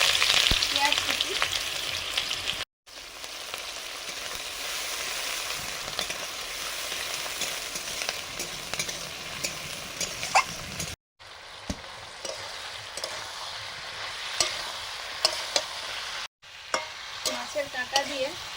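Spices, chopped onion and vegetables fry and get stirred in a pan while a fish-bone curry is cooked, giving a steady close sizzle with scraping stir strokes, broken by two brief silent gaps.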